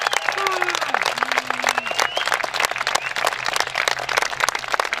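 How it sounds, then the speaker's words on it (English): Audience applause and cheering at an outdoor Bilderberg protest rally in Watford, a steady wash of many hands clapping throughout, with whistles and voices mixed into the crowd noise. "give them a massive round of applause for putting this on"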